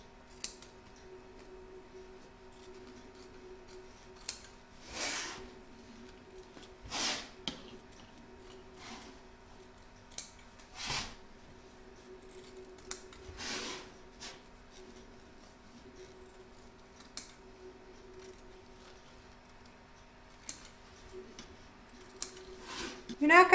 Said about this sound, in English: Trim away the batting from around the edge.